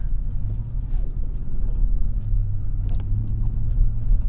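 A work truck drifts along a main road, heard from inside the cab as a steady, loud, low engine and road rumble with no clear tire squeal.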